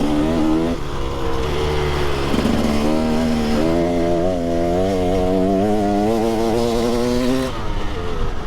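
A motorcycle engine that sounds off runs loud and close, a buzzy harmonic drone that dips, then climbs in pitch and holds a steady, slightly wavering note for several seconds.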